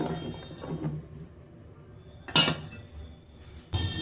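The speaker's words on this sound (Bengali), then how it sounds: "এবার আমি এর মধ্যে আলুগুলো দিয়ে দেবো" Potatoes go into a bowl of batter with soft wet squishes and a sharp clink of a utensil against the bowl, quiet and close, with a second knock at the end.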